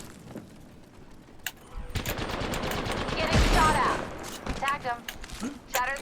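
Bursts of rapid gunfire crackle through a video game shootout, loudest in the middle, over excited voices of players talking.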